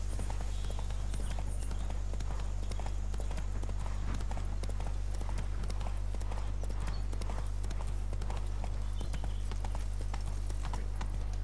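A horse's hooves clip-clop steadily in The Witcher 3, a fast, regular run of hoofbeats over a loud constant low hum, with no speech.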